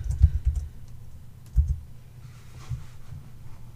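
A computer keyboard is typed on while entering a formula in an Excel 2010 spreadsheet: a few quick, soft clusters of key clicks, close and fairly quiet, with brief pauses between them.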